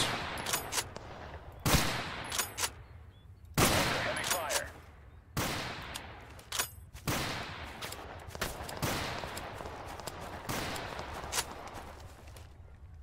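Kar 98 bolt-action rifle fire in the shooter game Total Conflict: Resistance, with sharp, loud shots every second or two and the crack and tail of each one ringing out over a steady game-ambience bed.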